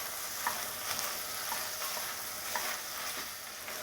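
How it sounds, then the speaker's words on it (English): Green beans and potatoes sizzling in a hot pot as they are stirred, a close, even frying hiss with a few soft scrapes of the spoon, no voices. "let's give that a stir"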